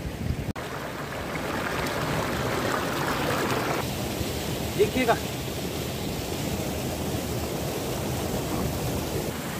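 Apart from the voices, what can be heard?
waterfall flowing through snow and ice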